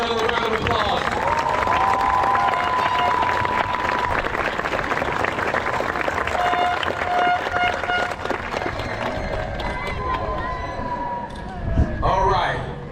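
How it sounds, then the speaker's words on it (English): Graduation crowd applauding at a Florida high school ceremony, a dense, steady wash of clapping and cheering filling the space throughout, with a brief louder swell near the end. "give our valedictorian and salutatorian another round of applause"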